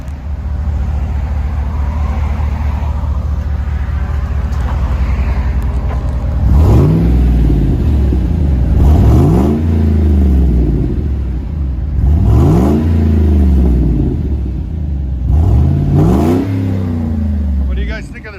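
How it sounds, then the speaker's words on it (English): A 2007 Chevy Suburban LTZ with a 5.3L V8 and its muffler and tailpipe cut off idles with a loud rumble, then rises in four sharp revving blips, close up, with some voices in the background. "There's the muffler and tailpipe cut off."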